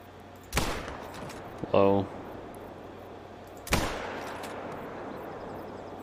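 Two sharp rifle shots fired at an animal in theHunter: Call of the Wild, each a loud crack with a short decaying tail, spaced about three seconds apart, with a brief metallic bolt-cycling rattle between them.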